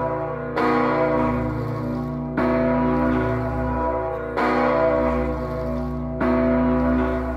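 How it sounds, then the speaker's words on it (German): Large church bell in Rovereto, once the world's largest, tolling four deep, resonant strikes about two seconds apart, each humming on with a long sustained ring, loud and alone. "Und im Fall von Rovereto ist es eine Glocke."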